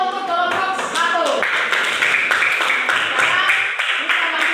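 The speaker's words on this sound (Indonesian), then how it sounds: "Oke, tepuk tangan dulu untuk kelompok 1." Classroom clapping for a student group, quick and fairly even, mixed with chatter and voices from the class.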